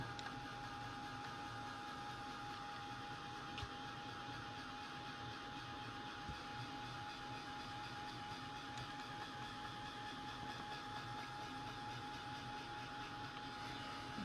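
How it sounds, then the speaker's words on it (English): A heat tool or blower gives a craft piece a quick drying, producing a continuous, even whirring hiss with a steady thin whine running through it, held close and unchanging throughout, with no one talking. "I'm just going to give this a quick blowing over"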